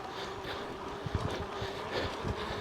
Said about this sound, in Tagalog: Medyo malakas yung hangin kasi nagbabike din kami.